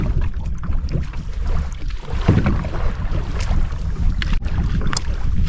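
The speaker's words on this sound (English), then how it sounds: "just battling the wind here" Strong headwind buffets a canoe being paddled around a peninsula on Lady Evelyn Lake in Temagami, a steady loud roar of wind and water with dull paddle knocks and splashes throughout, no voices.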